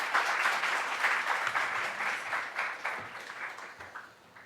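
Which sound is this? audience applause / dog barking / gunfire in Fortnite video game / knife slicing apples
audience applause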